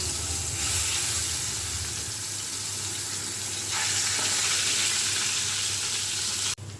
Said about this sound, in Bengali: তেলটা গরম হয়ে গেছে মাছটা আমি দিয়ে দিলাম